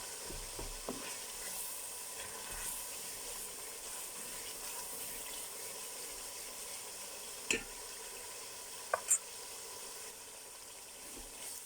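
Fenugreek seeds fry in hot oil as a tadka in a pot for dal palak, giving a steady, even sizzle with a few sharp utensil clinks and no talking.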